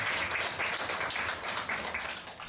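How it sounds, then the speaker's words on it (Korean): Church congregation clapping during a Christian talk on a successful life: a dense, steady wash of many hands for a couple of seconds, loud and close, with no talking over it. "박수 한번 쳐드리시죠."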